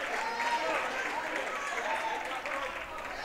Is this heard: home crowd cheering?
yes